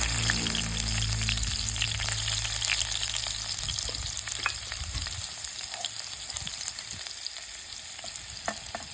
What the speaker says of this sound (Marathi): त्यात कढईत फोडणी टाकतात आजी त्याच्यात आधी लसूण टाकतात